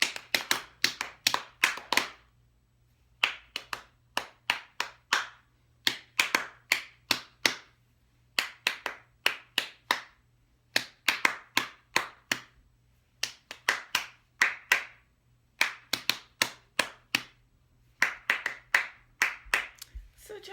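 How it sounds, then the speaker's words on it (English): Rhythmic hand clapping in repeated phrases, groups of sharp claps separated by short pauses, close and crisp, with a soft low hum underneath and no talking over it. "shall we try this maybe with some hand clapping"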